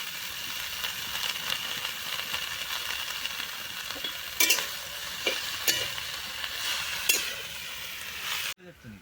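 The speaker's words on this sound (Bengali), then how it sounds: "এই যে কলা কাটা শাক ভাজা কমপ্লিট" Banana-stem greens stir-fry in a pan with a steady sizzle, broken by a few sharp clinks of a spatula against the metal near the end.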